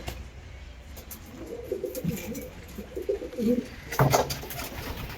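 Domestic breeding pigeons coo in a low, throaty, repeated rumble close by, the calls swelling through the middle and ending in a louder burst with wing or body rustle.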